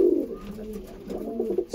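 Pigeons of several breeder lines coo in a loft, low rolling calls repeating through the stretch at moderate loudness, with no talk.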